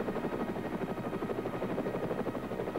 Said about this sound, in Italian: Sono arrivati gli elicotteri.